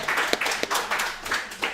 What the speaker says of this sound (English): Can you please give a round of applause for Mr. Sindoni here